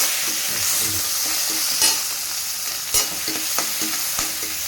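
Ginger and dry red chillies fry in a pan with a steady close sizzle, punctuated by a few sharp stirring scrapes of a spatula against the pan.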